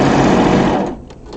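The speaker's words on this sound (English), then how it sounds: "I'm going to sew to the end and just kind of angle off." Serger overlock machine stitching quilt binding, a steady loud motor whir with rapid needle chatter that runs for most of the moment, then stops and leaves a quieter tail.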